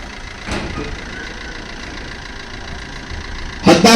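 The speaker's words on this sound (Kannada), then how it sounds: "ಇದು VDI ಡೀಸೆಲ್ ಇಂಜಿನ್ ಸರ್." A Maruti Swift VDI diesel, a 2014 mid-variant with AC and power steering, idles at a used-car sale lot, its steady low rumble running evenly with a louder clatter near the end and no one talking.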